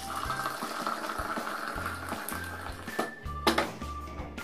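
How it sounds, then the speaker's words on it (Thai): Hot water pours into a pot of loose tea leaves for Taiwanese milk tea, giving a steady close splashing and trickling that runs through the whole stretch and rises briefly in the middle. "เราก็จะมาเทน้ำร้อนที่1000 ml ค่ะ"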